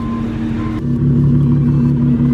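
A V6 Camaro engine idles and creeps forward into a garage, a steady low rumble that swells louder partway through as the car moves closer.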